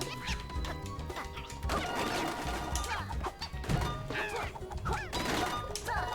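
Crates smashing in Yooka-Laylee and the Impossible Lair, a string of cartoonish cracks and whacks scattered over busy, loud game music and chirpy character noises.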